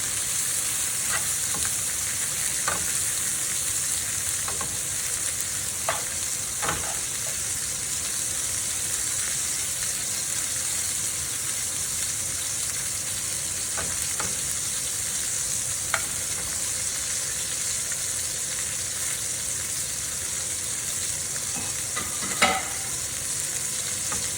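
Garlic frying in a hot pan beside a smoked porterhouse steak, a steady hissing sizzle throughout, broken by occasional scrapes and clicks of stirring, close and moderately loud with no voices.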